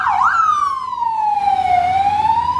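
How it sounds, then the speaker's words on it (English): An ambulance siren wails through a town street in Ibiza's old town, a loud close two-tone sweep rising and falling over faint traffic noise. "That's an ambulance."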